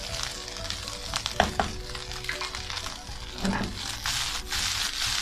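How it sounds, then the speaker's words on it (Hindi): Rice sizzling and frying in a pan, a dense crackling hiss with occasional scraping stir sounds, close and steady throughout. "ये देखिए आवाज़ें आ रही है पकने की, यही इनकी निशानी।"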